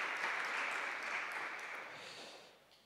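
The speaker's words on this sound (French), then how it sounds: "des applaudissements jusqu'à votre arrivée" Applause from a seated audience at a morning conference session, a steady wash of clapping that holds evenly and then gradually thins and fades toward the end.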